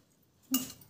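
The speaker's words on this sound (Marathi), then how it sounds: "थोडे चवीनुसार मीठ टाकणे आणि मिक्स करून घेणे" A utensil clinks briefly against a bowl while salt is mixed into roasted, ground ingredients, one short sharp clatter after quiet.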